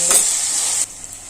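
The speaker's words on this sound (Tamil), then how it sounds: "வெங்காயம் நல்லா வதங்கிருச்சு பாருங்க" Shallots sautéing in hot oil with a loud, close hiss and the scrape of stirring that cuts off suddenly near the end, leaving faint crackles.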